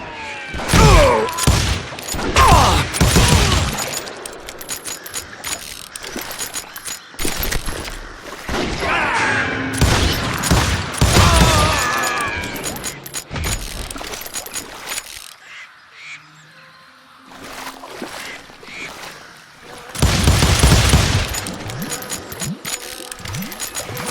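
Rapid volleys of gunfire in the Wild West shooter Call of Juarez: Gunslinger, bursts of sharp cracks in clusters with short lulls between, loud and close, followed by a quieter stretch and another burst.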